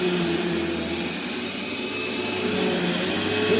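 A Eureka Lightspeed vacuum cleaner runs steadily on carpet with a loud, continuous whirring motor drone that holds even throughout, with no one speaking.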